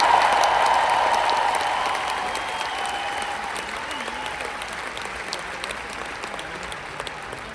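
An audience at a motivational talk claps hands in a full burst of applause that starts loud and gradually thins and fades over several seconds.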